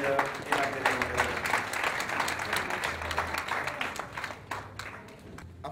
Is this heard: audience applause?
yes